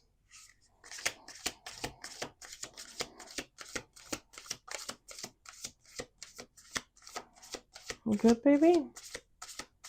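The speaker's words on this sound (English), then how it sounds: "We're going to do 2 more shuffles." Playing cards are shuffled in rapid riffles, a crisp, close flutter of snapping card edges in quick regular strokes, with a short spoken remark near the end.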